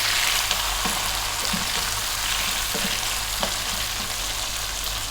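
Pork, okra and tomato sauté together in a pan, giving a steady, loud sizzle and hiss throughout, with a few soft knocks as the ingredients are stirred and no one talking.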